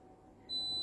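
An ice cream maker beeps with a single high steady tone once its churning stops, faint room quiet before it and the beep continuing to the end.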